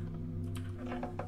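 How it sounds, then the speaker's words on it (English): Computer keyboard keys clacked in a few quick taps over steady low game hum, close and moderately loud. "sorry about my keyboard if you guys keep hearing that"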